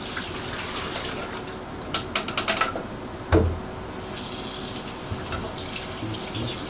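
Tap water runs steadily over quinoa being rinsed in a sink, a soft continuous splash with a cluster of quick clicks and one sharp knock partway through.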